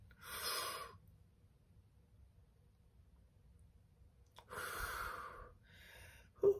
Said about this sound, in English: So let's breathe in and breathe out.